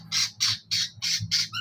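A lovebird in a new cage squawks five times in quick succession, harsh, shrill and close, evenly spaced over under two seconds with a low hum beneath.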